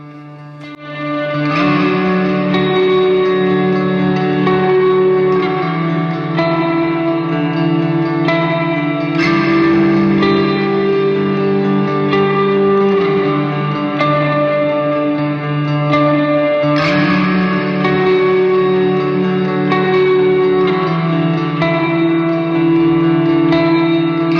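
Sustained chords through an Old Blood Noise Sunlight stereo reverb pedal wash into lush, shimmering reverb, with long echoing tails and a dense ambient swell that never drops out.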